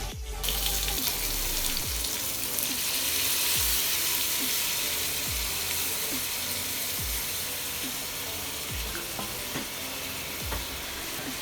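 Tomatoes tipped into frying biryani masala in a pan, a steady loud sizzle with repeated soft stirring scrapes and clatters throughout.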